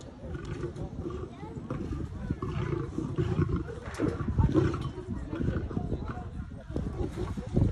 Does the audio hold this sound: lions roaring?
yes